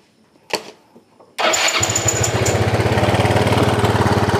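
A motorcycle engine is cranked and catches, a couple of short clicks and bursts first, then a loud, steady close-up idle with an even pulsing beat; no one talks.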